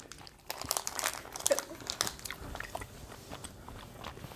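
Someone bites and chews a small heart-shaped gummy candy, likely strawberry. Close, soft squishy chewing and crinkly mouth sounds repeat irregularly, loudest at first, with no talking.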